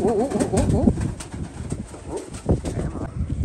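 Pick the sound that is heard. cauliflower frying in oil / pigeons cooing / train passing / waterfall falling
pigeons cooing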